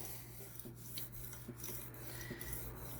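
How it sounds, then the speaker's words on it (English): A knife edge being polished on a Hapstone RS sharpening system, heard as soft, close rasping strokes with faint metallic scrapes repeating at a regular rhythm, alone. "this is definitely polishing that edge up a little bit"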